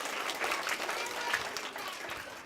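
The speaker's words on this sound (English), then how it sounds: "Let's give her a big round of applause for being so" Audience applause for a volunteer who came up front at a science demonstration, a steady wash of clapping from a small crowd held at moderate level throughout.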